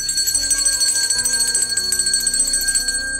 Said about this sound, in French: coup de cloche nous